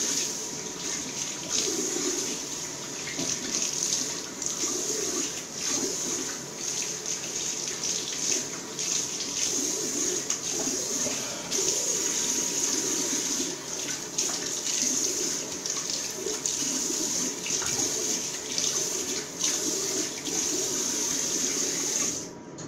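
A running tap in a bathroom sink used to rinse off after a shave, a steady close stream of water splashing into the basin with small shifts as hands move through it.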